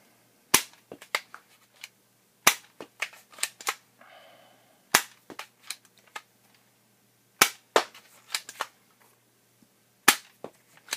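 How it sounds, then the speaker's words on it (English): A Newisland Space Wars toy dart blaster shoots Nerf Elite darts, each sharp crack followed by a short rattle of clicks, in a steady rhythm of about five shots, loud and close, with a brief whirring sound between two shots. "We're going to shoot all elite darts."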